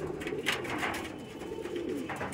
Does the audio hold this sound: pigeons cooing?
yes